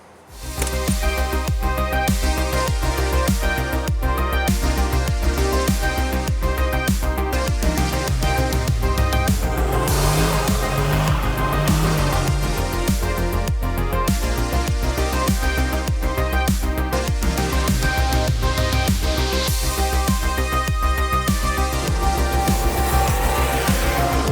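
A 1993 Ford Mustang Fox Body engine fires up and runs loud and constant, with a dense, rough exhaust roar that holds steady throughout.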